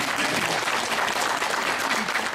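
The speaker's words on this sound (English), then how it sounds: "I really don't understand why you clapped after his presentation" Audience at a Toronto health show applauding after a presentation on raw milk, a dense, steady wash of many hands clapping throughout, with no voices above it.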